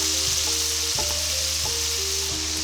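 Sausage sizzling and rendering fat in a pan, a loud, constant close-up hiss with a faint low hum and a few soft knocks beneath, no voices.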